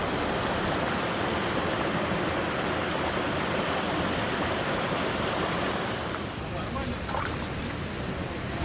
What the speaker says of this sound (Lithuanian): kaip versmė iš po žemės muša tą šiltą vandenuką